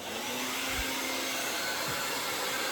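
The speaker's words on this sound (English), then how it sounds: "I'm actually just I'm touching the blow dryer to the brush" Hair dryer blows a steady, loud broadband roar while it dries hair pulled over a round brush, with faint low bumps from the brush and no talking.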